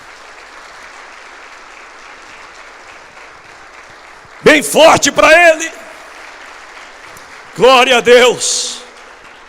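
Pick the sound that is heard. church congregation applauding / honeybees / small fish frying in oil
church congregation applauding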